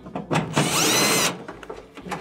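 A power drill whirs steadily for under a second while backing screws out of a Whirlpool dryer's blower housing, a close, loud burst with brief handling clatter before and after.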